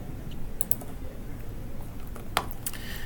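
Someone types a search term on a computer keyboard, producing a few soft, scattered key clicks over a low background hum.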